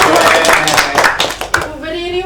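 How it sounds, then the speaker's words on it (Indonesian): A classroom group claps for a student during a geography microteaching lesson, a short burst of many hands with voices mixed in, fading after about a second and a half as a speaking voice takes over. "Tepuk tangan untuk Mbak Septi."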